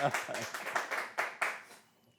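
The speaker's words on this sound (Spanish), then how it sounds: "un aplauso para Yesenia, ustedes que la quieren tanto" A studio audience claims for a guest during a talk-show interview, a short burst of scattered hand claps that fades out within about two seconds.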